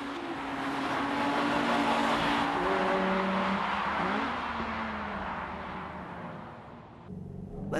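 Race cars, including a Mazda Speed RX-8 and an Anniversary Z, launch from the start and work through the corners, with loud close engines rising and falling in pitch and tires squealing, fading slightly near the end.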